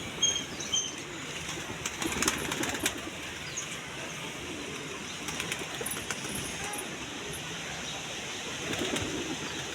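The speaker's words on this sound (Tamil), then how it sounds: "புறாக்கள் எல்லாமே இற போட்ட உடனே வந்துடுச்சு." Pigeons flocking in to scattered feed outdoors in intermittent rain, a steady wash of flapping wings and soft scuffling over a constant background hiss, with no voices present.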